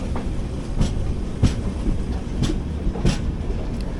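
Mandovi Express, train 10104 from Madgaon to Mumbai, heard from an AC 3-tier coach as a constant rumbling roll with periodic rhythmic wheel clacks over rail joints, loud and close, with no talking.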